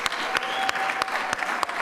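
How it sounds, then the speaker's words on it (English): An audience at a production music awards ceremony applauds steadily, a dense, even patter of many hands clapping with a few sharper claps standing out, filling the whole stretch without voices. "You guys have clapped."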